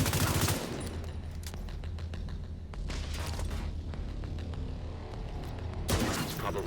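Rapid gunfire from the Bighorn rifle in The Division 2, a loud sustained burst of shots over low rumbling game sound, with a fresh sharp volley near the end.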